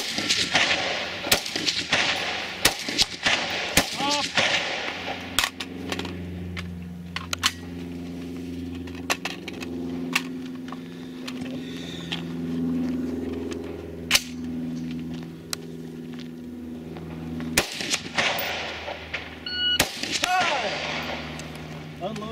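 Rifle gunshots at a practical rifle shooting stage, sharp loud cracks scattered through the clip, several in quick pairs near the start and end, with people talking and a steady hum between shots.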